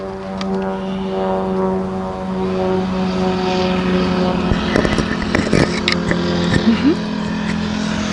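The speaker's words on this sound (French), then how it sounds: "ces avions sont bels avions autour de moi. Voilà un club de modèles." Propeller model airplanes at a model flying club buzz with a steady, droning engine whine that rises and falls as they circle, along with a few sharp clicks and bumps nearby.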